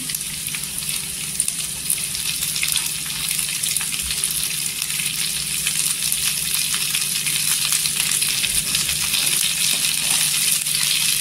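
Golden garlic, crushed peanuts and green chillies frying in oil for Kolhapuri mirchi thecha, a steady bright crackling sizzle that stays constant and close, with no talking.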